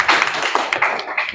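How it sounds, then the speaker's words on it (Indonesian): Classroom applause for a student group's presentation in an Arabic lesson, a short burst of brisk clapping from a small group of students, close and fairly loud, with no talking over it. "kita berikan aplaus"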